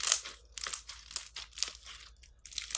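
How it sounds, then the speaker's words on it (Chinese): Strawberry-yogurt scented, borax-free mochi-style slime, made from a magic powder mixed with water, crackles and pops as it is squeezed up close, giving irregular crisp, crunchy bursts. "混合之后的捏泡声更扎耳"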